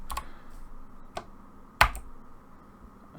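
Keystrokes on a Commodore 64 dev machine keyboard: three isolated clicks spread over a few seconds, the last one loudest and sharpest, over a faint steady background hum.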